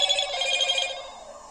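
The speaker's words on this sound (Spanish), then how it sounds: "Ahí suena la alarma." A GSM community alarm siren, set off by a phone call, sounds in the background as a warbling, ringing electronic tone that pulses rapidly and then fades.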